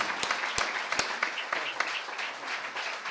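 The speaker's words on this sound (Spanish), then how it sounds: "Un aplauso para Ana." An audience at a medical congress on survival claps steadily, with a few sharp, close individual claps standing out over a softer spread of applause.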